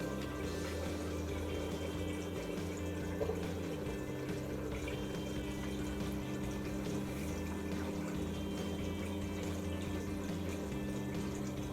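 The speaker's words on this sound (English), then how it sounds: "Now this should drain its tub out in around 3 minutes." A brand new washing machine drains its tub, giving a steady low pump hum and a faint water rush that run on evenly without talk.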